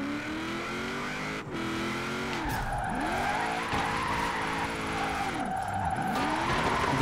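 An AWD car drifting in Forza Horizon 4 with a continuous engine drone and repeated rising and falling tire squeals as the car slides back and forth through the turns.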